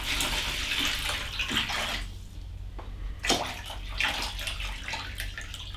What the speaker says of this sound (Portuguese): Eu vou adicionar mais água aqui um pouquinho